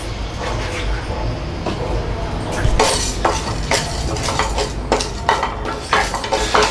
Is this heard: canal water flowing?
no